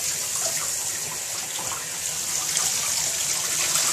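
Water runs steadily from a shower as a schnauzer is washed, a close, continuous hiss and splatter that grows a little louder toward the end, with no one speaking.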